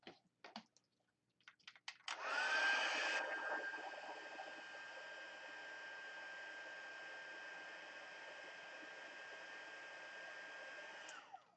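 A heat tool blows hot air to set embossing powder on a handmade lighted greeting card. A few close clicks lead into a steady, loud whirring roar with a faint whine that runs unbroken for about nine seconds, with no talking.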